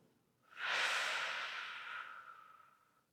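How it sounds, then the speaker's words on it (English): A single slow breath in followed by a big, long exhale through the mouth during a closing yoga relaxation, close and soft, fading out gradually with no talking. "A big exhale through the mouth."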